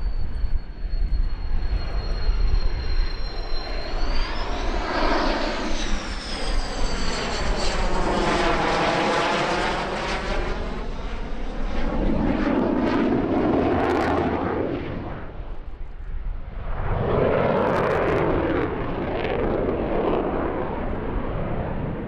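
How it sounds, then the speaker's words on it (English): MiG-29 jet fighter flying an aerobatic airshow display at Oshkosh, a loud, continuous engine roar whose pitch sweeps up and down as the jet passes and turns, with a deep rumbling surge near the end. "This is a cautious and careful display which barely scratches the surface of the MiG-29's epic manoeuvrability."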